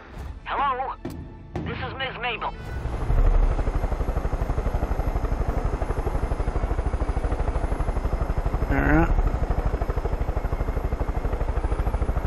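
A steady, loud rotor thrum of a battle helicopter in the video game Far Cry 5 fills the clip after a brief burst of voices and clatter at the start.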